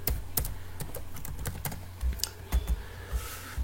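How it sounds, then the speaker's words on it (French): Rapid typing on a computer keyboard during a typing game, with close, continuous, uneven key clicks and a few heavier strokes on larger keys, heard alone without talk. "On va taper sur ce mot là."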